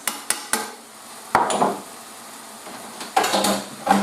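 Bolognese sauce with mixed herbs and oregano gets stirred in a pan, making several sharp clinks and scrapes of a utensil against the metal between quiet gaps, with a faint sizzle underneath.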